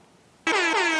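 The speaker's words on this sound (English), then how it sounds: "Someone pounds an air horn." An air horn fires one abrupt, loud, sustained blast after a moment of near silence, blaring harshly and holding steady to the end.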